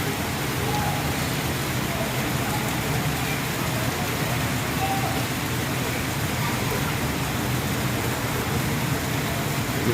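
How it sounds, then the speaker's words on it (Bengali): Heavy rain pours down during a stormy evening in Sylhet, with gusty wind. A dense, loud, unbroken hiss and patter continues steadily throughout, with nothing standing out above it. "প্রচুর দ্বারে বৃষ্টি হচ্ছে,"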